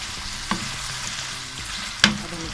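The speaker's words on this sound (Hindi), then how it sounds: "मसाले डालने के बाद बस हल्का सा इसे फ्राई करना है मसाले में" Chicken fries with spices in a karahi for a Lahori restaurant-style dish, giving a constant close sizzle and two sharp metallic scrapes of a stirring spoon; no voices.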